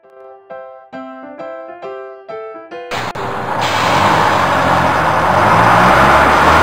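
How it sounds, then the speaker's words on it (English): Toy double-decker bus from an Anpanman educational toy, playing a short electronic melody of bright tones before switching to a loud, steady engine and traffic sound effect that runs on to the end. "Double-decker bus."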